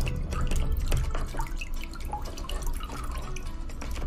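Water drips and trickles steadily from an Ant Esports H530 gaming headset after a water test, a close, busy patter of drops continuing throughout without talk.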